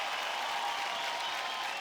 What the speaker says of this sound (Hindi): आदि के लिए जोरदार तालियां।